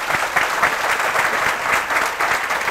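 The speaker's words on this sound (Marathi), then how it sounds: "मला वाटतं त्याच्या या विचारासाठी टाळ्या व्हायला पाहिजे" Audience applause fills the hall after a remark about Marathi cinema, a dense, steady clapping from many hands that stays loud and even throughout, with no voices over it.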